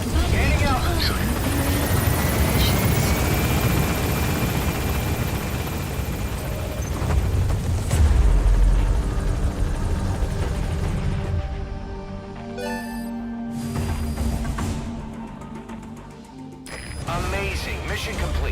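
A helicopter in the video game Metal Gear Solid V climbs out of a hot zone, its loud close rotor and engine roar steady before thinning out, with voices speaking over the noise.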